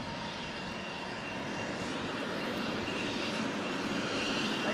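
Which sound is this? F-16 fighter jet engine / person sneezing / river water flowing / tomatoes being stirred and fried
F-16 fighter jet engine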